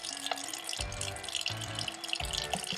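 Tap water runs steadily while a pork shoulder is rinsed in a sink, a close, continuous splashing stream with no voices.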